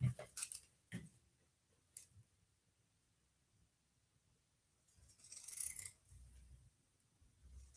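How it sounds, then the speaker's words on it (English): Pinking shears clip the seams of a lightweight fabric in a quiet room, with a few faint separate snips and rustles early on, then a brief louder burst of cloth handling. "So I clip this with the pinking shears."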